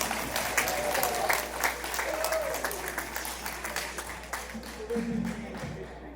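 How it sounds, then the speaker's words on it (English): Audience applause for singers and a band after a community evening performance, a broad steady wash of clapping throughout with some voices mixed in near the end. "One big round of applause for them,"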